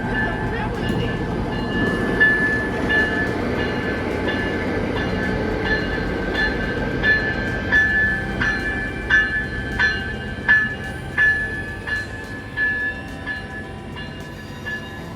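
A White Pass & Yukon Route train rolls past with its locomotive running long hood forward, hauling cars over a century old. A steady rumble carries a regular clickety-clack of wheels over rail joints that grows more pronounced toward the end.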